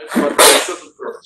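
During a university lecture, a single loud, close sneeze bursts out right after the lecturer's speech, followed by a short quieter sound.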